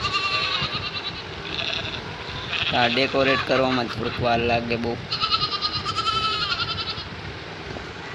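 Several goats and sheep bleat in a cluster of wavering cries near the middle, fairly close, while a person keeps talking over steady background noise.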